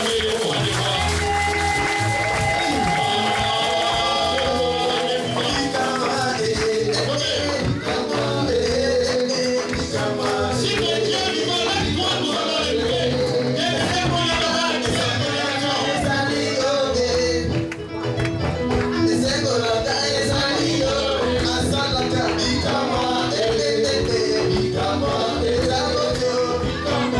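A church congregation claps and cheers over loud music with sustained organ-like tones and a dense rhythmic beat.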